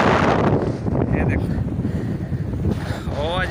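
Strong wind buffets the microphone on top of the small Khairgarh fort in the Cholistan desert near the India–Pakistan border, a loud, roaring rumble that gusts unevenly, with a voice briefly heard near the end.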